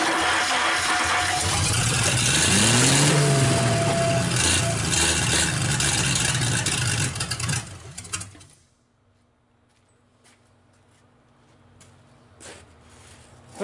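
An American LaFrance fire engine's Lycoming V-12 runs loud and rough just after its first start in years, a low rumbling roar with rising revs that suddenly cuts off around eight seconds, leaving near silence.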